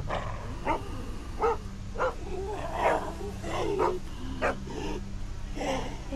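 A dog barks in The Walking Dead Season Two game, a series of short, fairly close barks at a steady uneven rhythm over a low ambient drone.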